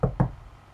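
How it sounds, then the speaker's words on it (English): Two sharp knocks on a wall or door, close and solid, spaced about a fifth of a second apart, followed by quiet room tone. "She doesn't normally knock back."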